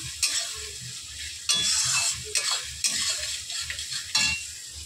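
A ginger spice paste is stir-fried in a pan, a steady close sizzle broken by repeated scraping strokes of a spoon against the metal at an uneven rhythm, with no voices.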